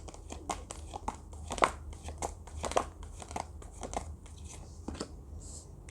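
Oracle cards are shuffled and handled during a Hindi pick-a-card tarot reading, giving a string of soft, crisp card flicks and crinkles over a faint steady hum, with no speech.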